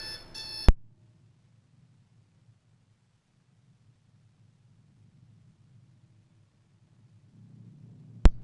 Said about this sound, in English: An alarm clock.